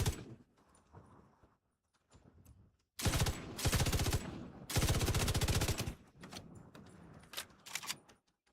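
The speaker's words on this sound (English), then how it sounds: "It's just a regular LMG, a GR9." Bursts of rapid fire from a GR9 light machine gun in The Division 2, two loud sustained volleys of a second or so each, separated and followed by quieter scattered shots and game noise.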